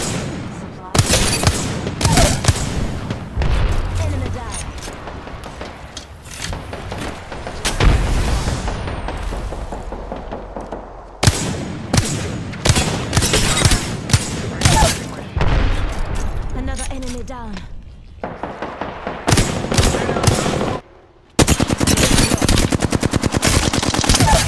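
Bursts of automatic gunfire and sharp shots from the Apex Legends video game crackle loudly in clusters throughout, with short pauses between volleys, while a player talks over the action.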